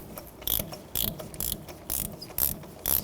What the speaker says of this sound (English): Let it hit that spark plug, and counterclockwise you're going to turn that out,